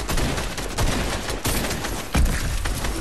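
Gunfire in a shooter video game, a dense continuous run of rapid shots and impacts lasting the whole few seconds, loud and close, with heavier thumps near the start and end and no talk.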